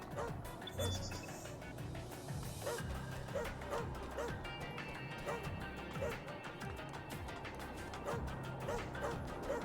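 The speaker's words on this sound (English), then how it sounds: "Where's the barking dog?" A dog barks in the action video game Astral Chain, near a helipad, with short repeated yaps buried in a dense, loud mix of game music and effects.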